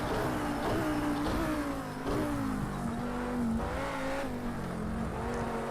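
A race car in the Project CARS 2 video game drives on, its engine note rising and falling through gear changes in a continuous, fairly quiet whine with no talking.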